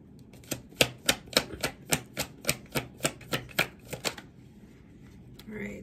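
Tarot cards being shuffled: a close, crisp run of about a dozen evenly spaced slapping flicks over four seconds, then quiet and a brief rustle as cards are drawn.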